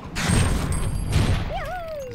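Explosion and gunfire in the video game Looterkings: a dense, continuous rumbling blast and crackling fire fill the clip, then a rising and falling whistling tone sweeps in near the end.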